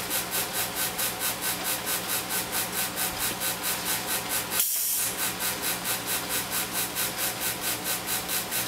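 Air-driven tennis string tensioner pulls a string with a steady pulsing hiss and whirr in an even rhythm, broken by one short sharp burst of air partway through, close and alone with no talking.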